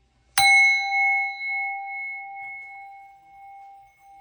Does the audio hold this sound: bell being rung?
yes